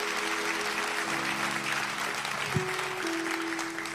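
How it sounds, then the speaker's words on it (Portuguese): A church congregation applauds in a sustained, dense wash of clapping, with a brief louder clap or knock partway through. "Vamos aplaudir o Senhor"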